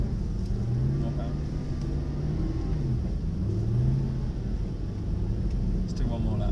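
Mercedes SLS AMG engine revving under power on a track, a steady loud low rumble with rising and falling pitch sweeps as the car accelerates, with an instructor's voice talking over it.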